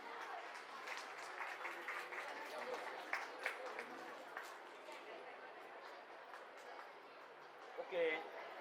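At a school annual function, an audience claps in a soft, distant wash of applause that holds steady and slowly fades, with faint voices underneath.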